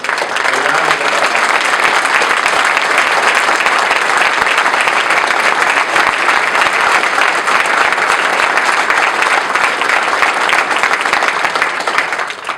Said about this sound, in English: So can we give the staff and all the commissions and all the committees a round of applause?